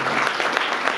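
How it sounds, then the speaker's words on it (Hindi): A congregation at a Christian fellowship gathering claps to welcome a guest, Shri Gurcharan Singh, a loud, dense burst of many hands close by with uneven sharp peaks. "तालियों से स्वागत करेंगे।"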